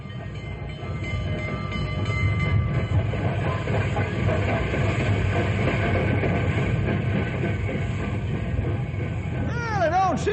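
A passenger train, the Fireball Express, rumbles steadily close by with continuous clattering, and a whistle-like wavering tone rises near the end.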